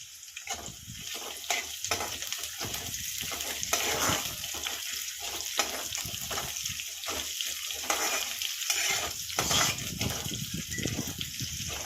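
Cumin and mustard seeds sizzle in hot oil in a pan, a continuous bright crackle with intermittent scraping as they are stirred.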